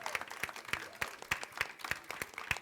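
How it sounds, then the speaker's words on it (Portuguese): Steady applause from a small church congregation, with individual claps sounding in a loose rhythm throughout, fairly close and moderately loud. "Palmas, né, gente, para eles."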